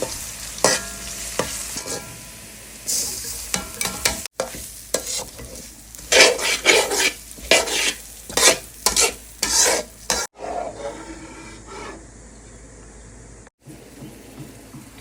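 Onions, garlic, ginger and dried chili are stirred as they fry in a pan, with loud sizzling broken by repeated scraping strokes of the spoon, then quieter frying once the stirring stops.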